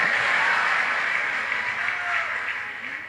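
An audience at a stand-up comedy show for Cak Lontong applauds steadily, a dense wash of many hands clapping that holds for several seconds, with a voice faintly audible underneath.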